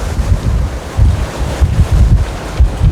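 Strong wind roars over the microphone at a cruise ship's bow heading into the wind while ocean waves surge and splash in a steady, loud rush at sea.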